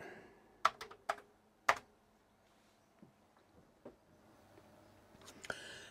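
Typing on a Commodore 64 keyboard with one key swapped in from another keyboard: a few sharp, close keystrokes in an uneven burst, then sparse fainter taps and a final cluster, with no talking.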